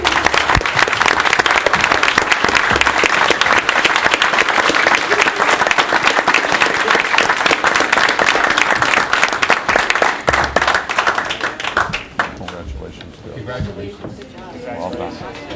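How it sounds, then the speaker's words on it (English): A town council meeting room breaks into sustained, loud applause from the gathered crowd honoring a team, dense clapping filling most of the stretch before thinning out toward the end as voices begin to come through. "can we have a round of applause for all of them?"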